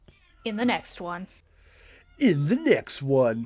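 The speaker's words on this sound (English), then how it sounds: "I apologize if you can hear my cat meowing in the background." A pet cat meows repeatedly in the background of a podcast recording while a person speaks over it in short phrases.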